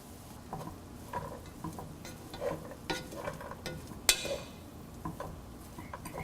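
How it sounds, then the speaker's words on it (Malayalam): Cooked cowpeas are stirred into a banana flower thoran in a pan, with soft scraping strokes over a low sizzle and one sharp metallic clink of the spoon against the pan midway. "ഇതിലോട്ട് നമ്മൾ വേവിച്ച് വെച്ചിരിക്കുന്ന വൻപയറിട്ട് നന്നായി മിക്സ് ചെയ്യുക"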